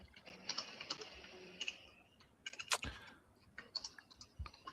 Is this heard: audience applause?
no